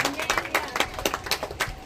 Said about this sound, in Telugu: కొట్టు చప్పట్ల స్తోత్రం కలుగును గాక